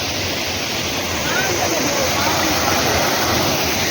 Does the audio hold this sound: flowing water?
yes